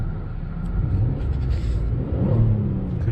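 A Hyundai Grandeur car accelerates in sport mode, a smooth low engine rumble from inside the cabin that swells gently as the revs rise, heard alone without talk.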